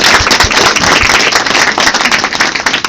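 Audience applause at a live concert in Joensuu, with dense, sustained clapping and cheering that stays loud and steady throughout, with no voices over it.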